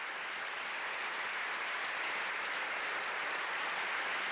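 Thundering audience applause at the announcement of the Higgs boson discovery in July 2012, a continuous, even wash of many hands clapping at once with no voices standing out.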